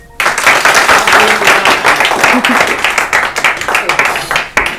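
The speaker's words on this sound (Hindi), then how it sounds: "आप हमारे लिए तालियां बजाइए।" Studio audience on an Urdu-language quiz programme clapping, loud close applause that starts suddenly and fades to scattered claps at the end.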